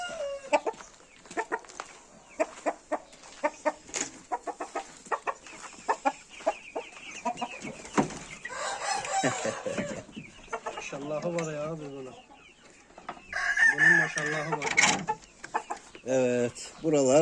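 Rooster crowing and hens clucking at a breeding-rooster keeper's yard, with repeated close crows and clucks alongside people talking.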